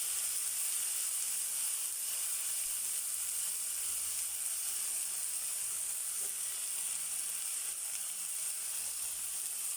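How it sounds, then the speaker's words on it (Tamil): Ginger garlic paste sautéing with onions in a pan while making tomato rice, a steady close sizzle and frying hiss running without a break, with no talking. "இஞ்சி பூண்டு பேஸ்ட்டு பச்சை வாசம் போகிற வரைக்கும் நல்லா வதக்கி விட்டுக்கோங்க."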